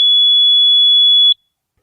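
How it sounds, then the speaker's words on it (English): A single sustained high electronic beep from a Ghost Controls gate opener control box holds steady for over a second, then cuts off abruptly, leaving silence. "So now I'm gonna press set until it beeps"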